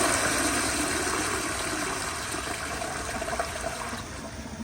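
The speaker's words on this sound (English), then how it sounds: "Let's flush it and see." An American Standard Yorkville toilet from 2012 flushes with a loud rush of water that gradually eases into a steady trickle as the bowl drains, heard close and alone with no talking.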